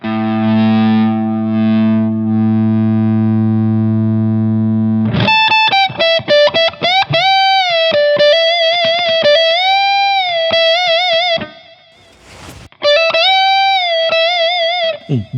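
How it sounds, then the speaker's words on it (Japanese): Distorted electric guitar through an LPD Pedals distortion pedal with its mid boost raised, giving a thick, boosted midrange: a sustained chord rings out, then a run of fuzzy single-note licks and bends, loud and up close. "このマスっていうのを上げると、 太いミッドブーストみたいな感じになりますね"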